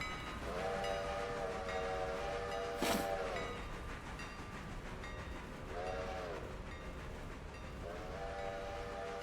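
Steady rumble of a train running in the video game Railroader, with a tonal horn sounding three times in drawn-out blasts over the continuous noise.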